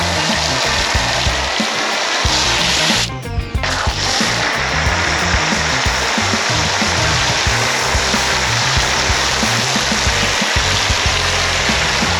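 Small electric pressure washer with a 15-degree nozzle spraying a dirty car, a loud, steady hiss of water jet that runs continuously, with a brief break in the spray near the start.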